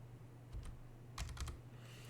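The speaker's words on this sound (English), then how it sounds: "To undelete it, push U on the keyboard" Computer keyboard keys tapped while editing text in the vi editor on Linux: a couple of isolated clicks, then a quick burst of several keystrokes in a quiet room.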